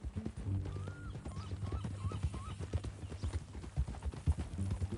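Horse hooves clip-clopping in Red Dead Redemption 2, a steady close rhythm of hoof beats with a short whinny and light background.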